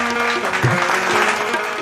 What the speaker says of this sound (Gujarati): એને તાળીઓથી વધાવજો.